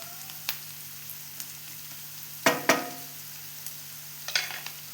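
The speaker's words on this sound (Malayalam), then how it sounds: "ഈ ഉള്ളി ഒന്ന് വഴന്ന് വരുമ്പോൾ നമുക്ക് ഇതിലേക്ക് പൊടികൾ ഇട്ട് കൊടുക്കണം" Onions saute in a pan as spice powders are stirred in for tomato rice. A faint, low sizzle runs under a few sharp scrapes and clinks of a spoon stirring against the pan.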